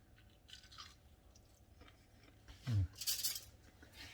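A single crisp crunchy bite into battered boneless chicken close to the mic, followed by a brief crackle of chewing in an otherwise quiet room.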